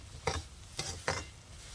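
Semolina roasting in ghee and oil for rava kesari, stirred in a pan: three distinct scraping stir strokes over a low, steady sizzle, close and fairly quiet, with no voices.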